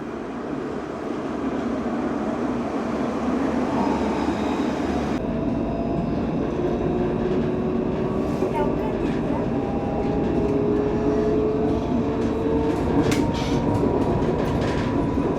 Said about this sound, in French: on a la station de tram qui est juste ici